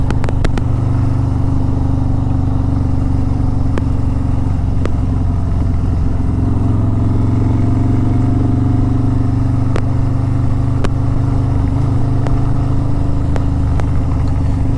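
Harley-Davidson Road Glide motorcycle on a ride to work over rough roads, a loud steady low engine rumble with wind buffeting and occasional sharp clacks from bumps, continuous and close.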